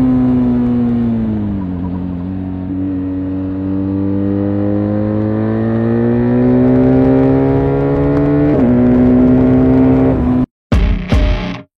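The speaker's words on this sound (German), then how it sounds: "Und zwar sitzen wir auf einer BMW R1250 RS." BMW R1250 RS motorcycle engine running loud and close with a steady, strong harmonic drone, pitch dipping then climbing gradually through revs, a brief sharp rise near the end before cutting out into short bursts.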